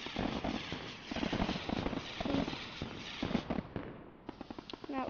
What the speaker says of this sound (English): First off, you have some TNT fireworks. You can light all, and all go off.